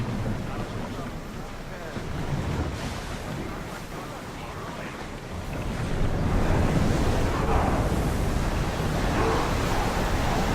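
Ocean waves wash and wind rushes steadily around a sailing ship in Assassin's Creed Odyssey, a loud continuous surge that swells midway, with a voice heard faintly underneath.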